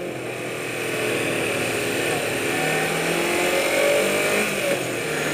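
Motorcycle engine idling high at around 2,000 rpm after a crash, with throttle issues; a steady buzzing idle with faint pitch wobbles, close and continuous, no talk over it.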